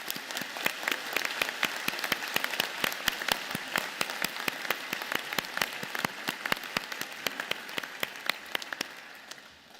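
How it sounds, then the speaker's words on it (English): Audience at a fall graduate studies convocation applauds in dense, sustained clapping that stays strong and even before thinning and fading toward the end. "round of applause."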